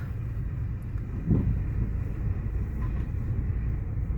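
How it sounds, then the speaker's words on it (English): Heavy low rumbling from a dump truck and excavator working at a road construction site in Khabarovsk, Russia, where old asphalt is being pulled up; a steady distant engine drone with occasional clunks, no talk. "And the dump truck here with an excavator."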